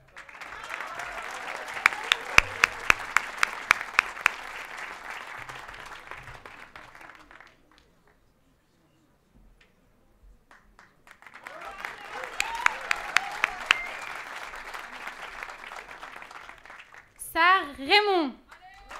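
Two bursts of audience applause at a film school diploma ceremony in Marrakech, separated by a near-silent gap, with a few sharp nearby claps standing out and a short spoken bit at the end.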